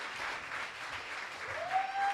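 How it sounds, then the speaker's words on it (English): A live audience claps steadily at a writers' round music event, a dense continuous wash of applause with no pauses; a faint sustained tone rises near the end. "keep those claps going"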